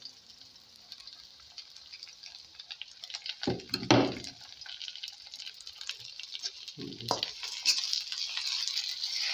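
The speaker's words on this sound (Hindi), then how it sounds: "अब मैं इसके अंदर ये टमाटर और सब्ज़ मिर्च है वो इसके अंदर ऐड कर देता हूँ।" Tomatoes and green chilies hitting browned onions for a pea masala, sending up a loud sizzling hiss that swells in two bursts with stirring scrapes between, then settles into a steady fry.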